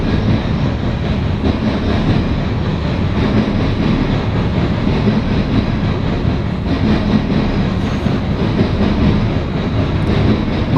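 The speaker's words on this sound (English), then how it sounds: "here's the coal train" CSX coal freight train passing close by, a steady loud rumble of wheels and rail cars rolling continuously throughout with faint clickety-clack and no break in the noise.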